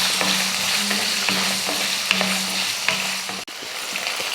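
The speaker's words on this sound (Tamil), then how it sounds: "இப்போ இதை வதக்கிடலாம்." Small shallots and garlic sauté in a pan with a continuous close sizzle, broken by repeated scrapes and taps of a spatula stirring at an uneven rhythm.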